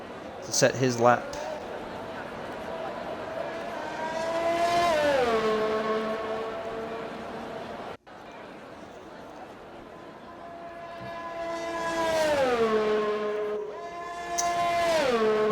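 A Mercedes race car in a Formula-style racing game sweeps past with a rising and falling engine whine, fading in and out twice over steady track ambience while a commentator talks over it.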